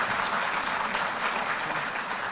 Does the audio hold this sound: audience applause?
yes